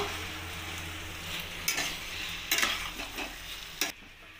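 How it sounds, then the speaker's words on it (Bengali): Soybean chunks, fried potato and paneer are stirred in a pan for vegetarian biryani, with a soft low sizzle and a few louder scraping strokes of a spoon against the metal. "এবার ভালোভাবে এটাকে নাড়িয়ে নেব।"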